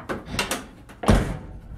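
Car door on a Dodge Swinger under bodywork being shut, a few muffled thumps and a firmer closing clunk close by, with no talk.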